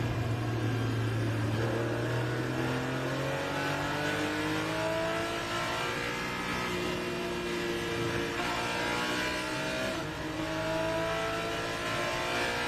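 A race car engine at Road America revs hard through its gears, rising whine after whine repeating as it accelerates, loud and steady with no talk.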